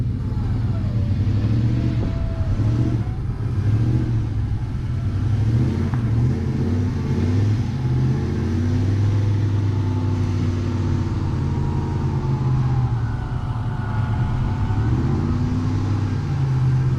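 A stuck GMC, Ram or Toyota truck's engine revs steadily and loudly close by as it drives out, a continuous low rumble with rising and falling pitch and occasional wheel spin.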